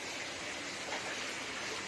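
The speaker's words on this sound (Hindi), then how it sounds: "इतनी तेज बारिश है" Heavy rain pouring down on a rooftop, a faint, continuous wash of falling water without pauses.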